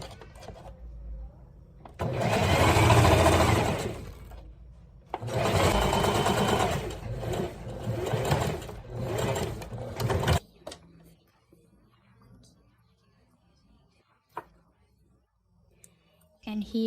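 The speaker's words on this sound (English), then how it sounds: "on the top of the sleeve, I'm going to sew one of the little pieces" A domestic sewing machine stitches a small piece onto the top of a bridesmaid dress sleeve, in two sustained loud whirring runs with a short pause between, then quiet handling and faint clicks.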